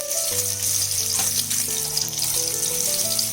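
Chopped onion fries in about three tablespoons of oil as the base for goat leg soup, giving a soft, steady sizzle under quiet background music.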